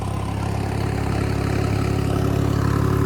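A New Holland tractor drives a potato planting machine with a steady, close engine drone. The low rumble runs unbroken and even for the whole short stretch, with no voices.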